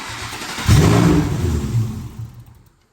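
Ford Coyote V8 freshly swapped into an Edge fires up after a brief crank, catching with a loud burst that settles into a rough idle before cutting off.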